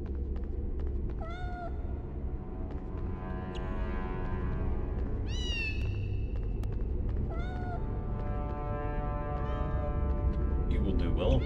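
A cat meows repeatedly in the Harry Potter and the Sorcerer's Stone PS1 video game, several distinct rising cries spaced over a low rumbling game ambience.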